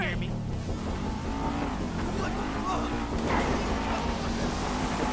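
Car driving in the video game GTA V, a steady engine drone running loud and continuous throughout, with a few brief shifts in pitch and a voice partly over it.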